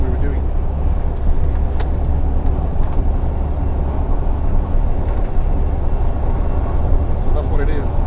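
A work truck drives along a frontage road near an Interstate 35 West exit ramp. Its engine and road rumble drone loud and steady throughout, with faint traffic noise around it.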